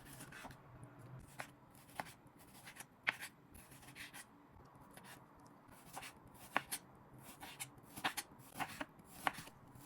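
A knife chops 600 grams of beef into long sticks on a board, with irregular crisp cuts landing in short clusters, close and fairly quiet against a low background.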